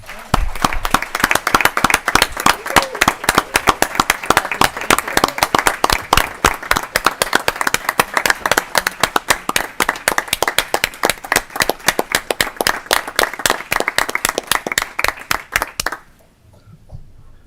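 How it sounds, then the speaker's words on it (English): A room full of people at a state Senate education committee hearing claps for aspiring teachers, dense loud applause with sharp individual hand claps, sustained evenly for about sixteen seconds before stopping abruptly. "let's give them a round of applause"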